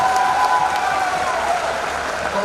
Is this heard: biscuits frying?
no